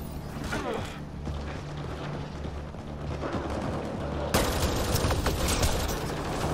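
Gunfire in Mass Effect Andromeda multiplayer crackles in repeated bursts over a droning game background, growing louder and denser in the last couple of seconds.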